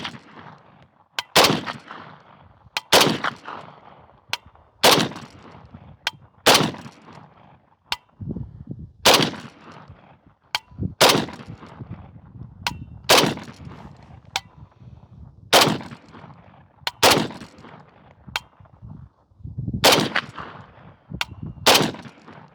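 Century Arms VSKA rifle firing at clay targets outdoors, a long series of sharp, loud gunshots spaced irregularly about one to two seconds apart, each with a short ringing tail, no talking.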